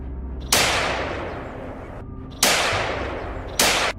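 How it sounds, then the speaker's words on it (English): Three loud, sharp gunshots crack close by during a wild boar hunt in mountainous terrain, each blast followed by a long decaying echo, irregularly spaced. "After a gunshot, the biggest wild boar collapsed on the spot."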